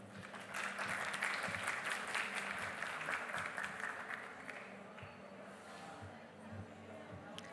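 Audience at a COP29 conference session on green buildings and construction decarbonization applauding to welcome a speaker, a dense sustained round of clapping that swells quickly, holds, then gradually thins, with faint voices underneath.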